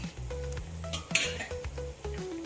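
Roasted coconut, cashews and almonds are stirred in a hot pan for an Udupi-style prasadam, with a light sizzle and scattered scraping and clinking of a spoon against metal over a steady musical backdrop.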